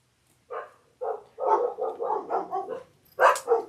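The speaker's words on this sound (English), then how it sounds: "my dogs are barking and being neighborhood nemesis" Dogs at home barking repeatedly, a series of sharp, close barks in quick bursts with short pauses between them, loud and clear with no talking.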